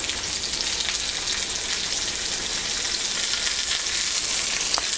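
Vegetables seasoned with curry spice fry and brown in a pan, giving a dense, even sizzle up close with no breaks and no voices.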